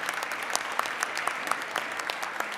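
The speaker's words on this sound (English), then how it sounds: "Y'all, yes, please give them a round of applause." A room of people applauds FFA students at a state Capitol legislative session, with close, loud clapping and individual sharp claps standing out over the sustained crowd sound.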